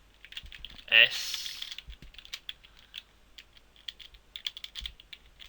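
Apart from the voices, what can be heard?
typing on a computer keyboard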